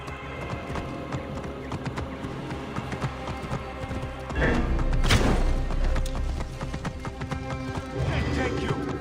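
Hooves clip-clop in a quick galloping rhythm, with a horse whinnying partway through over a steady backdrop of game sounds from Assassin's Creed Origins.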